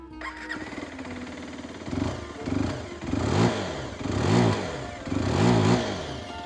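A 125cc motorcycle engine starts up and idles, then revs several times in rising, rhythmic surges, close and loud with no talk.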